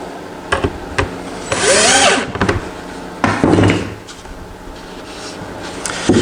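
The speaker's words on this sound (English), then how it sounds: "Forgot to put this screw in." A screw is driven with a power drill into a wooden two-handled carpenter's tool box, giving two close, loud bursts of whirring drill with lighter knocks and handling sounds between them.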